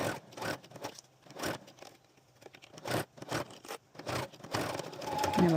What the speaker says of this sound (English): I'm gonna back stitch.